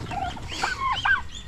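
A turkey gobbles in a short, warbling burst, fairly close and clear, with faint clucking fowl sounds in the background of a backyard poultry pen.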